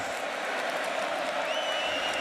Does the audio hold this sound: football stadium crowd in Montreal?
yes